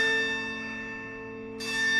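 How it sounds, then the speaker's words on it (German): A clock striking with bell chimes: a sustained, ringing metallic tone that decays, then a fresh strike near the end, alone with no voices. "Zwischen dem vorletzten und letzten Glockenschlage schlug noch eine andere Uhr."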